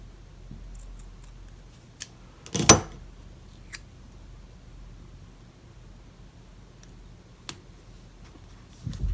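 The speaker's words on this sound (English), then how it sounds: "I just cut off the end here" A single crisp snip of scissors cutting the end off a paper planner page, close and brief, with a few faint ticks and small handling sounds around it in an otherwise quiet room.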